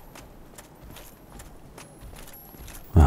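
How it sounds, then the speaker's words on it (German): Heavy stomping footsteps of a pursuing enemy in the video game Dark Souls: a steady series of dull thuds at an even pace, ending in one sudden louder impact. "ich höre aber hinterher stampfen"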